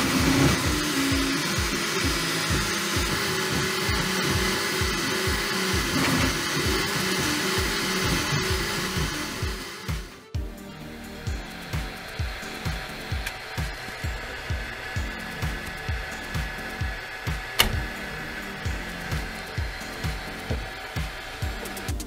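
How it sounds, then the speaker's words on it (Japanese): A Bambu Lab X1-Carbon 3D printer prints a Benchy boat with a loud whirring motor drone. After a short pause the drone turns into a regular pulsing rhythm of repeated mechanical strokes, close and with no talking. "とりあえずお決まりのベンチを印刷してみますか。"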